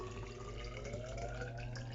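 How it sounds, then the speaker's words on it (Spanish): Water runs steadily into a measuring container in a lab, being prepared for an HPLC mobile phase mixed with methanol, a quiet continuous trickle with rising filling tones. "Ahí estamos colocando el agua"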